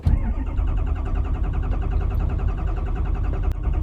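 Engine cranking to life after the fuel pump was primed nine times, following a fuel filter change and running out of gas during a sugar beet harvest; a loud, close, steady running drone lasts throughout with no talking.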